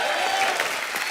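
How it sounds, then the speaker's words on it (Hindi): Loud studio audience applause on a comedy talk show, dense steady clapping filling the whole moment without any break. "एक बार जोरदार ताली हो जाए"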